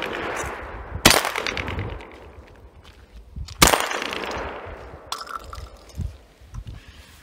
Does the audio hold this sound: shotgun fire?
yes